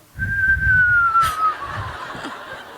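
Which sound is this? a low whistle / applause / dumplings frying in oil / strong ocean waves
a low whistle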